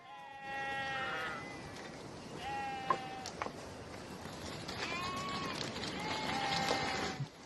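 Several sheep bleat outdoors, shifting around a camera tripod, with repeated wavering calls from a few animals, some close and others farther off, spread across the clip with quiet rustling between them.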